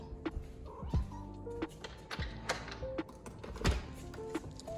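A porch cat meows repeatedly in the morning at a barn, several short near cries mixed with thumps and taps of movement around it.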